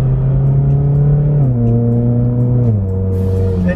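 A second-generation sports car engine revs loud and close, its pitch climbing and then dropping sharply at two quick, snappy gear shifts, with no talking over it.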